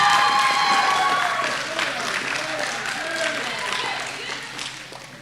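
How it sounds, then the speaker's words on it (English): Audience at a Hanukkah talent show claps and cheers, a dense wash of applause that starts loud and gradually thins, with some whistling or voices mixed in. "I mean, a proper round of applause?"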